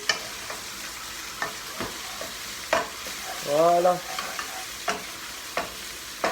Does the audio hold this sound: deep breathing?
no